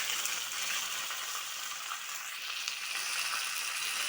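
Dried red chilies and curry leaves hit hot oil along with fenugreek seeds, giving a bright, continuous sizzle and spatter that holds steady throughout at moderate loudness, with no voices.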